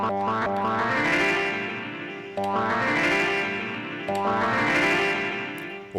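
Synthesizer chords on an Elektron Digitakt repeat three times, each swelling with a trailing delay effect that echoes and smears the notes into a shimmering wash.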